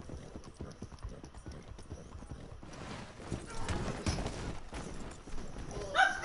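Horse hooves gallop in a PS4 video game, a quick, steady clip-clop close up that grows louder toward the end, with some speech underneath.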